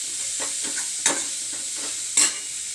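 Onions cooked down with ground tomato sizzle in a pan, a steady bright frying hiss broken by a few soft scraping stirs and two sharper clatters of the spoon.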